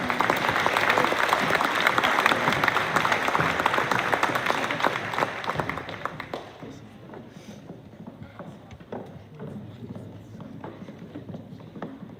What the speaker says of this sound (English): Please give a round of applause to our varsity team.